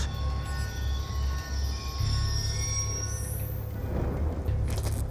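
A train rumbles steadily past in Call of Duty Black Ops 2, a continuous low heavy roll with faint high metallic squeal and tonal whine over the top, loud and near throughout.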